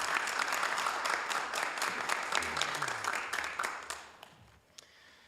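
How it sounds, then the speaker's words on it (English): Applause at a city council meeting: many hands clapping steadily, then thinning and fading to a few scattered claps. "Let's give them a big round of applause"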